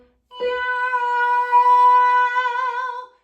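A voice imitates a cat's meow, holding one long, steady, tonal note for about three seconds, loud and close.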